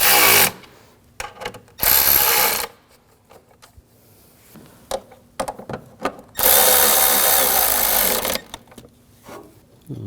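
A power tool tightens bolts on the engine of a 2007-2013 BMW 328i 3.0L inline-six during knock sensor replacement, in loud whirring bursts separated by quiet gaps and light clinks.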